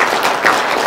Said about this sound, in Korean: 박수로 부탁합니다